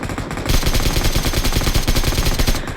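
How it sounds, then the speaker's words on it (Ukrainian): Loud, rapid automatic gunfire from PUBG rattles in a fast continuous burst, with sharp repeated shots that start after a brief pause and carry on nearly to the end. "То по мені ще стріляє."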